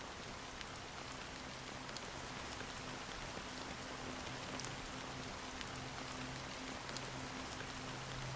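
Steady rain falls in the game Honkai: Star Rail, a dense even hiss of drops with faint scattered patters, heard alone and fairly soft throughout.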